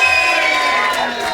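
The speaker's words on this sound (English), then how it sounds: "Give yourselves a massive cheer" An audience at a live comedy show in a London square cheers and whoops loudly on cue, a dense wash of crowd voices that carries on throughout without a pause.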